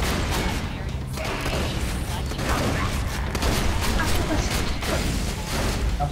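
Rapid gunfire in the co-op shooter Borderlands 2, with continuous dense bursts of shots and mechanical clatter filling the whole stretch, loud and close, with players talking over the action.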